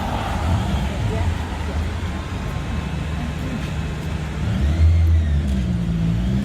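A supercharged Lincoln Navigator accelerating on a downtown street, its engine a low, rising roar that swells toward the end over steady traffic noise, with voices talking throughout.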